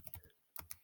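Computer keyboard typing as text is entered into a lead capture page builder, a few quick soft keystrokes in two short clusters with a brief gap, close and quiet.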